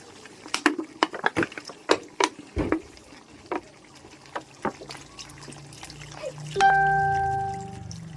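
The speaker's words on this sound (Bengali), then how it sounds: "এবার আমি জল দিয়ে নেবো এর মধ্যে" Water is poured into a curry cooking in a pan, preceded by scattered knocks and clatter of utensils, then a sustained gurgling pour swelling toward the end.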